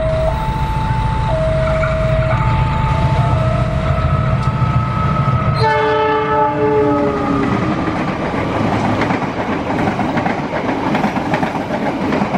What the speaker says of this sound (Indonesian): Kereta api Lodaya.